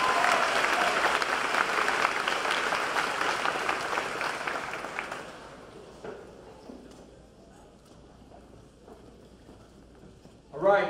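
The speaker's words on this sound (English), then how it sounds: "Another round of applause." Applause from an audience at a school awards ceremony, loud and steady at first, then thinning out and fading into quieter room noise with scattered claps.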